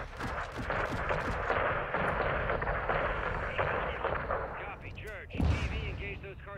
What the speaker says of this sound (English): we're taking RPG fire from the east